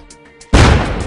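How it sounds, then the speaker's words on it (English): A frag grenade explodes in the game Star Trek Online: a sudden loud, close blast that breaks the quiet and rumbles on with a heavy, sustained roar. "Frag out."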